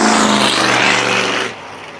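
A loud car engine close by holds a high rev as its automatic transmission shifts at 3,500 RPM, then the roar drops sharply to a lower, quieter drone.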